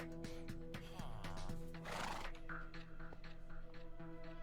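A horse whinnies in a video game, a rising neigh over a busy layer of game tones and effects, fairly prominent in the mix.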